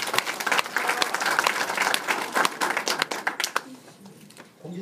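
Lecture attendees give the lecturer a dense round of applause that carries at a moderate level, then thins to scattered claps and fades near the end.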